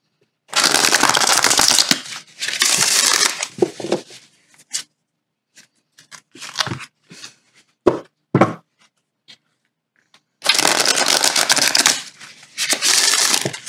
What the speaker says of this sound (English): Just give it a couple more shuffles.